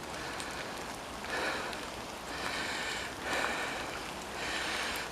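Steady rain falls on an outdoor walk among greenery, a dense hiss of drops that swells gently in waves and sits close and even, with no voices.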